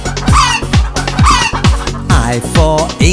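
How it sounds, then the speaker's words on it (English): A hen clucking repeatedly in quick, loud, close bursts, with rhythmic low pulses under its nasal calls and no talk. "H for hen"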